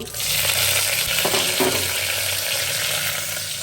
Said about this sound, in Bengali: এখানে আস্তে মশলাটা দিয়ে দিব